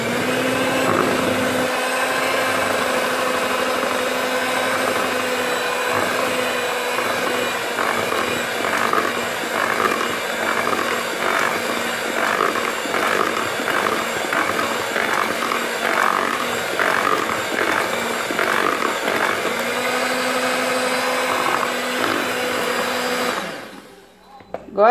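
An electric hand mixer whirs steadily through pão-de-ló sponge cake batter, a loud continuous motor drone with slight wobbles as the beaters move, running alone until it cuts off abruptly near the end.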